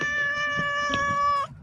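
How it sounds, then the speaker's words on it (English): A feral cat yelling, a single drawn-out loud meow with a strong tonal wail that rises slightly before cutting off, close by and alone. "I want a cat friend that yells at me."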